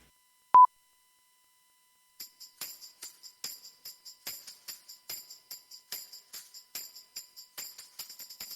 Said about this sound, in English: let's make sure we get our sine wave, solo that, and hit record.